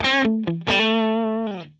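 An electric guitar plays a short phrase through a Line 6 Helix Matchstick amp at an edge-of-breakup tone with reverbs off, a few crisp notes followed by a held one that fades.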